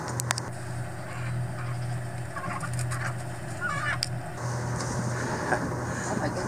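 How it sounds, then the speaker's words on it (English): A chicken clucks and squawks faintly from a small boat in Baly Bay, Madagascar, with several short calls early on over a low steady engine drone and background murmur. "This fellow's got a chicken."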